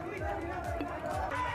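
Crowd of party workers gathered at Sankat Mochan temple, a dense babble of many voices with footsteps and movement, over which one voice speaks close and clearly.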